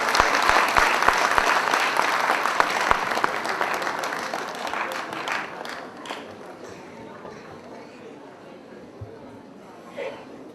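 Audience applause at a Braj Kala Kendra Holi festival award ceremony in 2009, a dense burst of clapping that is loudest at the start and slowly thins and fades, with talking heard over it.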